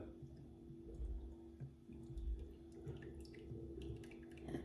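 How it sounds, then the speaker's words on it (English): Kefir drink strained through a colander gives soft, faint dripping and wet trickling, with occasional squishy splashes as the liquid runs through. "So I'm just going to run it through this colander."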